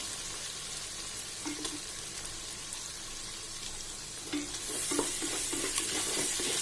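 Chopped onion frying with cumin seed in a pan for a mutton and dal gravy, a soft close sizzle with occasional stirring scrapes that grows louder and brighter toward the end.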